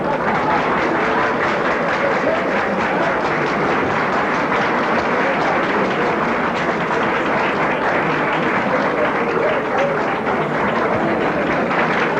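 Audience applauds at the 1984 Rothmans Bravo International Rally award ceremony as the Balkan Cup is presented, a dense, loud, unbroken wash of clapping that holds steady for the whole stretch.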